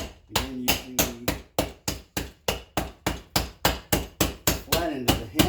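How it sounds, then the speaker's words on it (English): Hammer blows smash Take 5 bars still sealed in their package, about a dozen sharp thwacks landing in a steady, fast rhythm at close range with no talking. "I'm gonna smash it just like I did the Oreo cookie."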